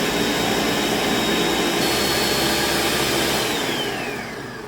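A food processor runs steadily blending classic hummus while olive oil is added, a loud continuous whirring roar that holds even and then fades slightly at the end.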